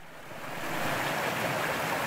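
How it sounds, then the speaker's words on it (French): A forest stream rushes faster as it runs downhill, a steady broadband water roar that swells slightly louder after the start, heard alone without voices. "Alors toujours le même ruisseau plus bas, alors le débit s'accélère"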